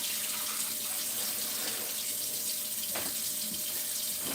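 Water runs steadily from a tap to fill a tub for a large constrictor snake, a continuous broadband hiss throughout with a faint clunk near the end.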